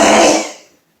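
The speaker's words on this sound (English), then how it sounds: "This is an afternoon sneezing fit." A single loud sneeze from a person's afternoon sneezing fit, an abrupt, forceful burst that fades out within a second, close and alone.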